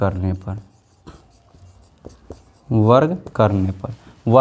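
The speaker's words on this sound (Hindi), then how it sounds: "तो लिख देंगे दोनों तरफ" Chalk or pen scratching across a board during a Class 10 maths lesson, with short scraping and tapping strokes in a quieter gap between stretches of a teacher's speech.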